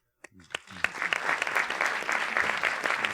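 Audience at a DGA panel discussion breaking into applause, starting with a few scattered claps that quickly build into dense, sustained clapping from a crowd in the room.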